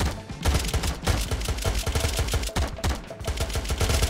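Dense, continuous automatic gunfire from several weapons in an Unturned survival game firefight, with rapid overlapping bursts that stay loud and close without a break.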